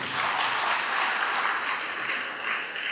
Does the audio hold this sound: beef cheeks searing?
no